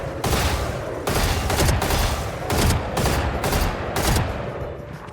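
Guardian rifle shots in the video game Valorant, five loud single shots spaced roughly a second apart, each a sharp crack with a rolling tail, no voices.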